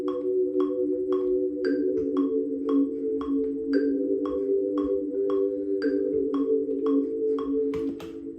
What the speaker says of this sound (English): so those are the chords for the song, and it sounds like this